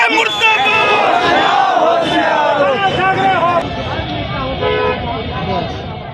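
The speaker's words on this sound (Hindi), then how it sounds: "लगाइए नारा राज ठाकरे मुर्दाबाद" A dense protest crowd in the street shouts a slogan against Raj Thackeray during an effigy-burning funeral-style march, loud rowdy voices overlapping with scattered car horns and general hubbub.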